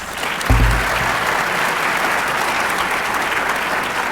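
Loud, full applause from an audience at a university awards ceremony honoring classified-service staff. It starts with a sharp burst and continues as an even, sustained clapping across the whole clip.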